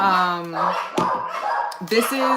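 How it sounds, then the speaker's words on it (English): Several dogs bark indoors at a home, loud sharp yips and barks repeating through the moment, overlapping someone talking over them. "excuse my dogs"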